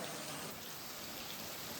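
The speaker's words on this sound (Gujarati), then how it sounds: "હવે છે ને વડા છાંટે મંડાણો વરસાદ" Rain falls in a steady, dense hiss of drops striking surfaces outdoors, continuous and fairly loud throughout with no voices.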